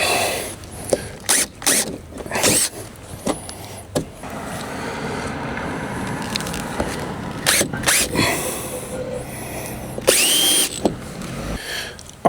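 A power drill bores into Jeep Gladiator fender extensions in several short bursts, then a longer sustained run, with pauses and handling noise between.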